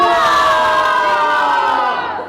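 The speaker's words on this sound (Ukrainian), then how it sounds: "Давайте всі разом крикнемо Різдво!" At a New Year celebration for wounded soldiers and their families in a theatre, a crowd of adults and children shouts a single word together, one loud sustained cheer that fades at the end.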